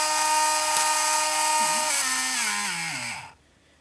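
A Vulcan 17.5T brushless RC motor whines at high, steady revs with a loud, tonal drill-like pitch, then winds down in a falling sweep and cuts off near the end.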